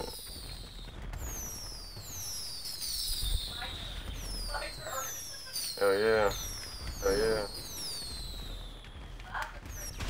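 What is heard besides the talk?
fireworks in GTA 5 video game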